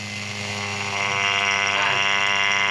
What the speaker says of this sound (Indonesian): Ini suara pompa vakum yang kasar.